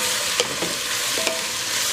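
Pork carnitas stirred in hot pork fat for Carnitas Borracho: a steady sizzle with a couple of brief scraping clicks near the start and middle, close and even, with no voices.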